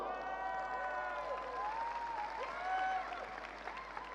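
An audience at a large global event applauding and cheering, a broad wash of clapping with crowd voices and whoops rising and falling over a few seconds.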